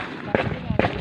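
Two sharp rifle reports from a sniper during an armed clash between NPA rebels and the military, spaced about half a second apart and mixed with shouting voices.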